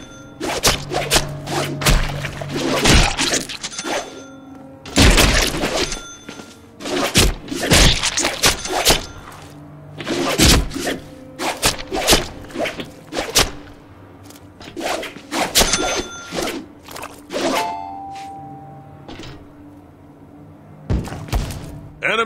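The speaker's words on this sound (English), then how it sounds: "mix our light and heavy attacks together and see what happens" Melee combat in Deadpool: The Video Game, with a rapid string of loud punches, whacks and thuds mixing light and heavy attacks, irregular hits and swooshes layered over game sound.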